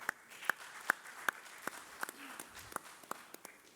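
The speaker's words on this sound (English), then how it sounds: "Please, a round of applause for him, please." Sparse, slow clapping from a small audience at a plaque presentation, about a dozen distinct claps spaced roughly a third of a second apart, fairly faint with a quiet room behind them.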